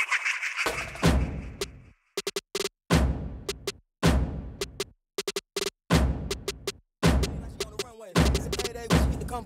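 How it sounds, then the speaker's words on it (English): A drum beat played without its sample, heard as punchy kicks and snares in a stop-start pattern with short gaps and quick stuttered hits, loud and up front with no voices. "But the drums without the sample sound like this."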